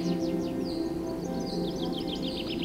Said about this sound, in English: You listen to your birds and all that